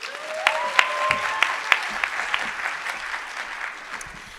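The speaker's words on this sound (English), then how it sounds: "Let's give Mabaso a warm round of applause." An audience at the opening plenary of a conference breaks into warm applause, dense overlapping clapping with scattered sharper claps standing out, steady and sustained throughout without speech.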